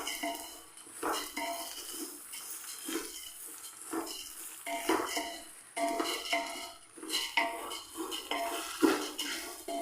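A ladle clinks and scrapes against a pot as washed rice is stirred and dry-fried, with irregular metallic knocks over a faint sizzle; nobody talks.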